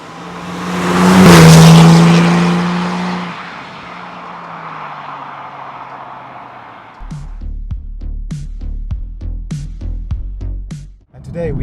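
Porsche 911 997 Generation 2 Turbo from 2009 roars past close by, a loud swelling engine rush that fades into a distant drone, followed by a rhythmic pulsing beat.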